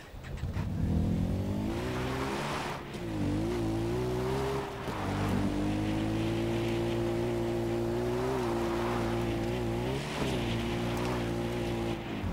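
A vehicle driven in the video game Far Cry 4, its engine droning steadily with rising and falling revs and brief gear-shift dips, loud and continuous with no talk.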